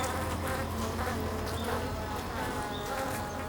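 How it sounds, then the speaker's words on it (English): A dense swarm of honeybees engulfing a wasp makes a continuous loud buzzing drone that stays steady and close for the whole stretch, with no talking. "the swarm of bees engulfing the wasp is getting warmer and warmer"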